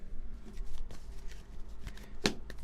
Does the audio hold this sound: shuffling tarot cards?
yes